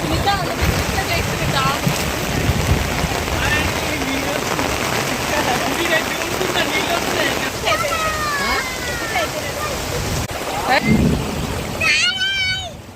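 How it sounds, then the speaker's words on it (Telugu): Heavy, storm-like rain with strong wind, heard outdoors near a stream and trees: a dense, constant roar of downpour and gusts throughout, with faint voices and brief tonal calls rising above it near the end. "వర్షం చూడండి తుఫాన్ లాగా అయితే మారిపోయింది"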